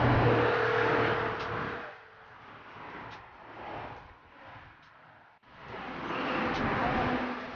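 A car is driven slowly toward an automatic car wash machine in Florida, a steady engine and tyre rumble rising and falling at moderate distance, with a brief dip near the end before the broadband noise returns.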